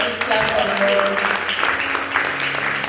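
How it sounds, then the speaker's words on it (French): A church congregation applauds the Lord in a dense, sustained wash of clapping that runs throughout, with voices talking over it. "Est-ce qu'on peut acclamer très fort le Seigneur?"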